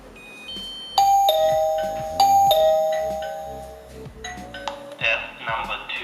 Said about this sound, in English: the chime is ringing. It is quite loud